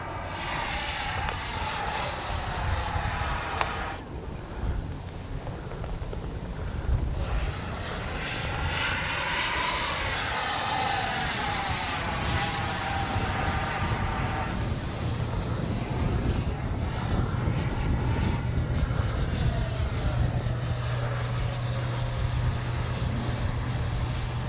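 A Freewing 90mm F-22 RC jet with its electric ducted fan whines up for takeoff and flies past, a loud sustained rising and falling roar with a Doppler sweep as it passes overhead.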